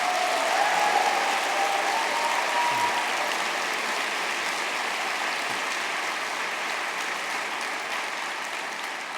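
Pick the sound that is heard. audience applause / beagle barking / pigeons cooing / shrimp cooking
audience applause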